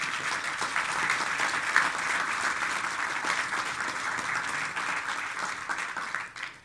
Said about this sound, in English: so I think we owe them a round of applause.